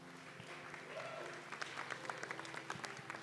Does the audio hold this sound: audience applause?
yes